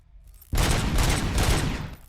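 Sustained rapid automatic gunfire in the video game Robocop: Rogue City, a loud dense burst of shots lasting about a second and a half after a brief quiet start.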